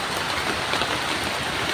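Heavy rain pours down in a steady, dense roar, close and loud, with no voices over it.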